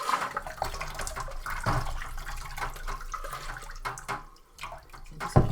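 Lukewarm water is poured out of a brass instrument during cleaning, an uneven gurgling trickle and splash that rises and falls, close by with no voices.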